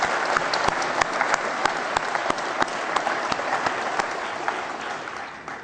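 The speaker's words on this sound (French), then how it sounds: "Et je crois qu'on pourrait presque l'applaudir." A hall audience applauds steadily at a municipal New Year's greetings ceremony, with dense, even clapping that carries on at a constant level throughout.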